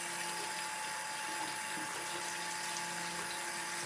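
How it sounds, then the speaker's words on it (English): A face mask is rinsed off at a sink under running tap water, a steady close hiss of flowing water with a faint mechanical tone underneath, unbroken for the whole few seconds. "I'm gonna go ahead and rinse this off now."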